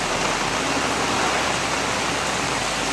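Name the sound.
heavy rain during Typhoon Kristine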